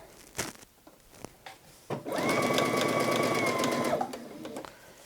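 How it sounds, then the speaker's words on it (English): Sewing machine running a basting stitch around the front placket opening of a bodice, a steady close whirring burst of about two seconds after a few soft handling clicks. "you can call it a basting stitch or a reinforcing stitch around the front placket opening on my bodice"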